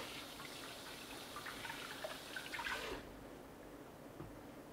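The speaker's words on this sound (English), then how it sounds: "So let's wash the apple." An apple is rinsed under a running kitchen tap, a steady splashing water stream that stops abruptly near the end, followed by quiet room tone.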